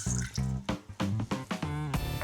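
Red wine vinegar pours into a bowl for quick pickled cabbage, with several short gurgling bursts and a brief pause, close and fairly quiet.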